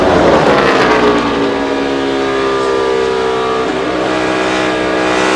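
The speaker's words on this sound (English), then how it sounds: "You're on board with Dale Earnhardt Jr." Onboard a NASCAR race car at Michigan in 2012, the engine roars loud and steady at high revs, a continuous droning whine with a brief dip and climb in pitch, with no talk.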